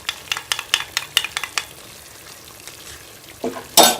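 Spoon stirring beaten egg into semolina milk halwa in a pan, a quick run of rhythmic scraping taps followed by a pause and a couple of louder clatters, close by with no talk.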